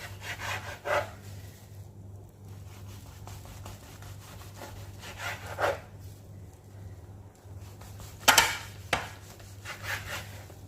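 A knife cuts through rolled kuboos bread on a board in several short sawing strokes separated by quieter pauses, with a faint steady hum underneath.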